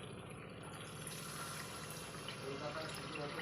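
Water is poured into a pan of frying masala for a fish curry, a steady broadband pour and hiss with bubbling that holds evenly throughout at close range.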